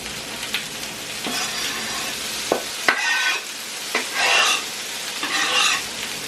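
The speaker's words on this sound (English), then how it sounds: "So let's get this back in the frying pan." Chopped quesadilla filling is stirred and fried in a frying pan, close sizzling with repeated scrapes and bursts of crackle as the food is moved around.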